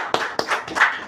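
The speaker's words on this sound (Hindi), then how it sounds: "तालियां हो जाएं।" Audience clapping on a televised Hindi quiz show, several distinct hand-clap bursts in a short quick run, fairly close and clear with no talk over it.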